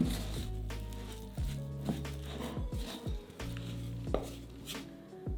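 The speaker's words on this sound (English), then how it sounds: "Now let's mix everything together until we have a lumpy mixture." Donut dough ingredients are mixed in a bowl into a lumpy mixture: steady, close wet stirring and thudding strokes with a utensil, repeating in an uneven rhythm throughout, with no talk.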